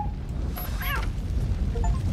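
A cat meowing once in the video game RoboCop: Rogue City, a short clear meow near the middle over a low steady rumble of background ambience.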